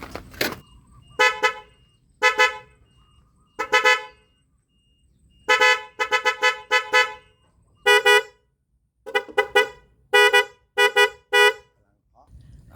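A newly replaced truck horn sounding: loud, close honks in short, uneven bursts of several toots each, separated by brief silences.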